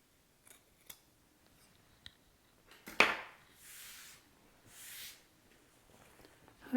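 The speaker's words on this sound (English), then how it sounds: "next we're going to trim away some of the seam allowance" Scissors trim the fabric seam allowance on a shirt dress being sewn, giving a few quiet snips and short crisp cuts spaced apart in an otherwise quiet room.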